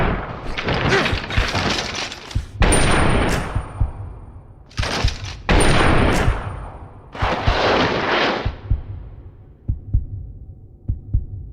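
Gunfire in the Binary Domain video game: several heavy, booming bursts with long decaying tails, separated by pauses, followed by a few faint clicks near the end.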